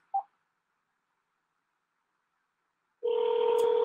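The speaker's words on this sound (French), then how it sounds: "Ça sonne." A telephone call placed during the Bourse Pilote & Filles 2022 award presentation: a short beep, a pause of silence, then a loud, steady ringing tone that continues to the end.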